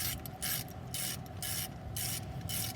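Two 18 mm brake caliper bolts being loosened on a 2005 Chevy Express 3500 box truck, heard as a steady rhythm of short, close scraping bursts repeating about every half second, with no talking.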